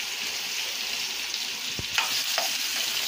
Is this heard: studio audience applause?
no